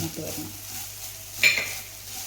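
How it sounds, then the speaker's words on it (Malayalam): Shallots, garlic and curry leaves frying in a pan for sambar give a soft steady sizzle, with a brief spatter of stirring clatter midway. "പിന്നെ നമ്മൾ ഈ ചെറിയ ഉള്ളി, വെളുത്തുള്ളി, കറിവേപ്പിൻ്റെ ഇല. ഓക്കെ, ഇത് മൂത്ത് വരണം."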